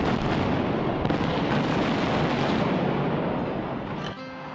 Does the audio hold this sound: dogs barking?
no